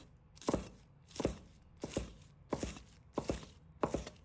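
A kitchen knife chops scallions into short pieces on a cutting board, six crisp, evenly spaced thunks about two-thirds of a second apart, close and fairly quiet, with no talking.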